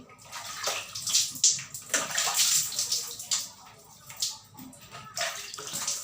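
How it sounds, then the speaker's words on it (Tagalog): Water splashes and sloshes against a body being wetted in a shower, an irregular, close patter of spray and drips that rises and falls continuously. "basain muna natin yung ating katawan. Ayan, basain lang natin."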